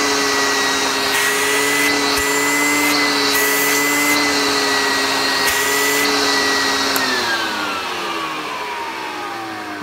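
A Hoover Junior U1012 vacuum cleaner runs with its hose attached, giving a loud, steady whining roar throughout. The pitch shifts briefly several times, then slowly drops toward the end.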